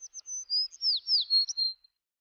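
A single small bird chirps a quick series of high, bright notes and short whistles, around ten calls over two seconds, clear and alone with no other sound.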